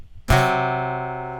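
A guitar sounds a tritone, two notes plucked together once, ringing close and clear before slowly decaying with no other sound.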